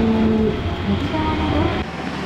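Steady rumbling hum of a Japanese commuter train riding one station on a hot day, continuous and fairly loud with a faint tonal whine, the noise dropping slightly near the end.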